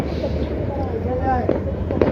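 New Year's Eve fireworks over Dhaka seen from a rooftop, a steady distant crackle and scattered pops with faint whistling rises, under a voice talking throughout.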